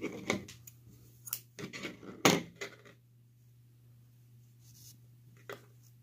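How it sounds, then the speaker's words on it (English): Scissors snip through crochet yarn with a few sharp close cuts and rustles early on, then near quiet apart from a couple of faint ticks, with a low steady hum underneath. "When you get to the end, cut your yarn."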